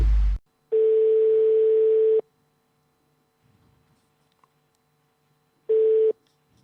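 Telephone line tones before a radio prank call: a short burst of noise, then a long steady ringback beep, a silent gap, and a second identical beep, loud and clean with no voices.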